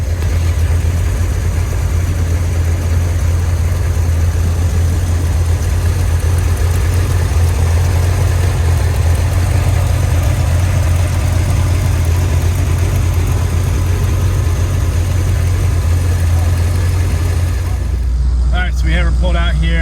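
A 1981 Chevrolet Corvette engine idles with a steady, deep rumble that stays constant throughout, with broadband road-like noise above it and a brief change near the end.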